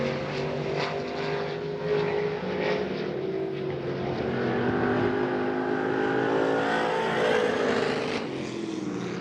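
A race car roars around Hagerstown Speedway on a one-lap qualifying run, its engine droning loudly and steadily with shifting pitch as it circles the track, continuous and close throughout.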